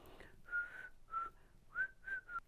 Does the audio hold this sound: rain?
no